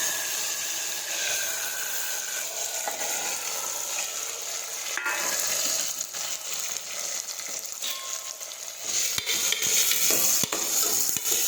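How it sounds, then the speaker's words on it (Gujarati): Mustard seeds, cumin, guvar beans and tomatoes sizzle steadily in hot oil in a pan for guvar shak. The frying hiss is close and continuous, with occasional stirring scrapes. "હવે આપણે તેમાં રાઈ અને જીરું નાખી દઈશું. ગુવાર અને ટમેટા સમાન નાખી દઈશું."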